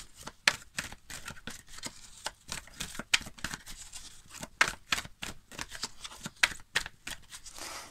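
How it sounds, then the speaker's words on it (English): Tarot cards shuffled close up in quick riffling bursts, crisp papery flutters and taps repeating irregularly over eight seconds, with no voice present. "I also appreciate that some viewers like to see just a quick little card shuffle on camera as well"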